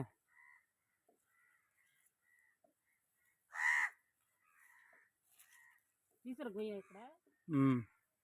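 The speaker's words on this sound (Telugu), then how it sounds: "కాకిడ కా కా అంటుంది" Crows caw near a guava orchard planted with cucumber as an intercrop: a few loud, harsh caws stand out, with a short burst around the middle and a rapid pair near the end over quiet background chirps.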